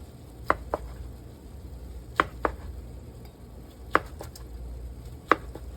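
A knife slices food on a cutting board in a home kitchen, with about half a dozen sharp, quiet taps spaced irregularly over a low, steady background hum.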